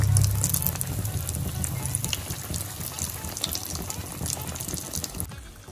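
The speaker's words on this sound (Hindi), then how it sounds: "वेरी लो फ्लेम पे हम इसको नाइसली फ्राई करेंगे" Flaky plain-flour patties fry gently on a very low flame, making a soft, even fizz with fine crackles that slowly fades.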